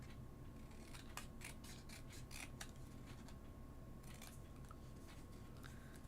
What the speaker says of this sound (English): Let's cut out the donuts.